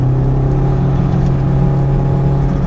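A Toyota MR2 Turbo fitted with an S54 engine pulls hard in third gear from about 3,000 rpm, a loud, steady engine drone heard close from inside the car, with no talk.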